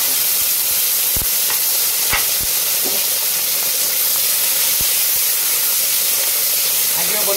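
Prawns sizzle in hot oil in a wok for a Bengali-style prawn curry, a steady hiss with sharp clinks and scrapes of stirring scattered throughout, no voices.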